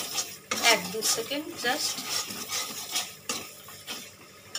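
A spoon stirs garam masala and half a teaspoon of sugar in a cooking pan for a vegetarian dhokar dalna, with a run of close, scraping, clinking strokes against the metal and a faint sizzle. A voice briefly speaks.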